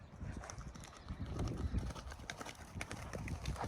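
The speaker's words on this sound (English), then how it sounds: "That canter." A horse cantering in a riding arena, hooves drumming in a steady three-beat rhythm, fairly close and continuous, with faint low noise around it.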